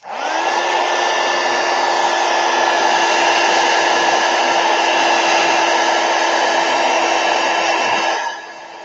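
A hair dryer blows on a trash-art journal page with a steady, close, loud whir that holds for about eight seconds, then drops off sharply near the end.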